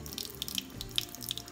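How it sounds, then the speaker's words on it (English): Tap water runs steadily into a sink during hand dishwashing with a sponge, a soft continuous wash with a few bright drips and splashes standing out, close by, no talking. "the sound of the water running"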